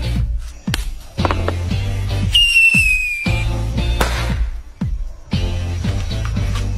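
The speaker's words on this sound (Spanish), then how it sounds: "¿Qué tal si le damos un silbador en la mecha?" A whistling firework lit by its fuse shrieks with a sustained rising whistle amid a series of sharp pops and bangs, loud and close, in a noisy outdoor setting.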